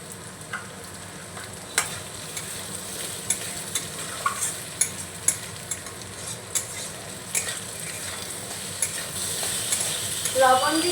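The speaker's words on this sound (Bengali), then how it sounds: "ভালো করে মশলার সঙ্গে মিশিয়ে নিতে হবে আলুটা দিয়ে একটু নাড়িয়ে নিয়েছি" Potatoes mixed with spices sizzle steadily in a pan while a spoon stirs them, producing a continuous soft frying hiss punctuated by repeated scraping and tapping clicks against the pan.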